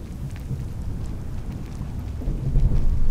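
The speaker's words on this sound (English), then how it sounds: "Aside from the rain." Rain and thunder in a video game, with a steady hiss of rainfall and low rumbling thunder that swells louder toward the end, with no voices.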